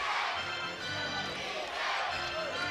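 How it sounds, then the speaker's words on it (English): The home Westchester crowd at a D-League basketball game fills the arena with a broad, sustained roar of rhythmic chanting, steady and loud throughout the short stretch. "a chant of defense from the home Westchester crowd"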